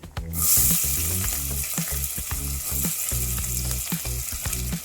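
Steady oily sizzling and crackling of onions frying in oil for goat offal gravy, loud and close, runs throughout with a rhythmic musical backing underneath.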